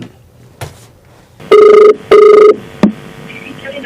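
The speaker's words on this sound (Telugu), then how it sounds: "So let's call Arun." A telephone rings twice in loud, even bursts with a short gap between, followed by a brief click.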